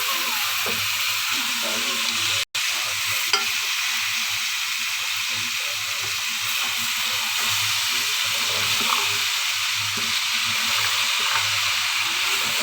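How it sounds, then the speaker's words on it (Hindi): Vegetables go into frying masala in a pan and sizzle steadily and close, with a constant hiss, occasional stirring clatter, one sharp click near the start and faint low voice-like murmur underneath. "मसाला कुछ तैयार हो चुका है और इसमें जो है अब सब्ज़ी डाल रही हूँ मैं।"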